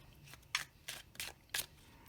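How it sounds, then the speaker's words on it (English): Tarot cards shuffled by hand near the microphone, giving four or five soft, papery riffling bursts at a steady pace in a quiet room, with nobody talking. "let's take a look while I'm shuffling the last card."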